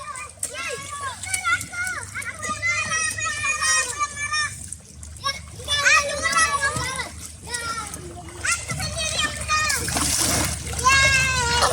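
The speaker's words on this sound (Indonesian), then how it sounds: "Lebih seru bersama teman-teman atau keluarga beradu balap di seluncuran air ini." Children shout and chatter over bursts of splashing water on the Racer Slide water slide at Water Kingdom Mekarsari, with lively splashes recurring throughout amid excited voices.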